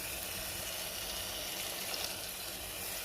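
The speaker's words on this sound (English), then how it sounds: "I'm going to add just this cup of water." A cup of water poured into a pot of beans cooking in tomato soup, a steady faint hiss and sizzle of liquid hitting the hot pan, continuous for a few seconds with no talking.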